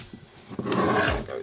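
An angle grinder cuts a link out of a bicycle chain during a wrecked bike rebuild, a short harsh burst that swells into a loud sustained roaring grind for about a second before easing off.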